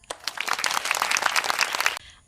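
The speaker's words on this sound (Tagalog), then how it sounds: "Bigyan natin ng isang masigabong palakpak ang ating" A short burst of applause from an online class as students clap for themselves, dense and lively for about two seconds, then cutting off abruptly.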